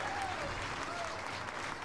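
A crowd applauds in the point-and-click adventure game Goodbye Deponia, a short, dense burst of clapping that fills the whole moment, with a faint in-game tone drifting behind it.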